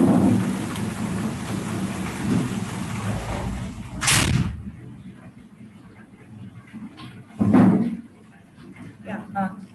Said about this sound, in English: It's raining hard here and I'm not able to hear.